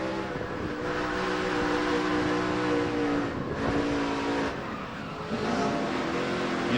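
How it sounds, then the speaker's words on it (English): NASCAR race truck at the 2005 Quaker Steak & Lube 200, engine throttling on and off through a crash, a loud sustained roar with harmonic revs that dip and surge, with brief tire scrub, no talk. "Let's see what all he does with the throttle in this truck when he gets hit."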